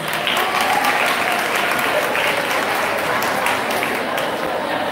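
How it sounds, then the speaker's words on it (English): A school audience applauds at an anniversary awards ceremony, dense and steady clapping filling the whole stretch at fairly close range with no break. "Yes, I think they deserve a big round of applause."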